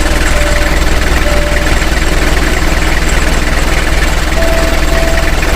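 A car engine runs steadily on its engine bed at idle, a loud continuous low rumble with a constant vibrating hum and faint tonal whines, no talking.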